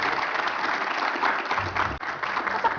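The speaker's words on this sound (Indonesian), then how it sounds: "10 tepuk tangan." An audience at a live Q&A stage event breaks into steady, full applause, a thick wash of clapping that dips briefly near the end before carrying on.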